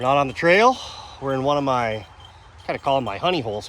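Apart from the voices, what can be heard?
No everyday noise stands out behind the speech.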